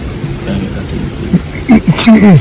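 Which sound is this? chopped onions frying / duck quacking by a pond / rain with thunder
rain with thunder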